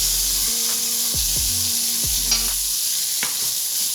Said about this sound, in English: And then I'm gonna drop the veggies back in.